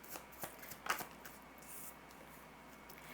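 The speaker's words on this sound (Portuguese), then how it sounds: "Vou tirar mais 2 cartas." Tarot cards being shuffled and drawn, with a few crisp riffling bursts and soft card slaps in the first second, then quieter handling.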